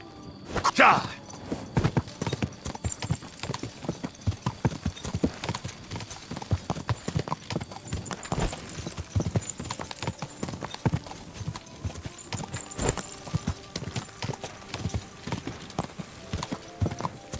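Steady rhythmic clip-clop of horse hooves in Kingdom Come: Deliverance II, fairly close and loud throughout, with a brief whinny near the start and a voice speaking over it.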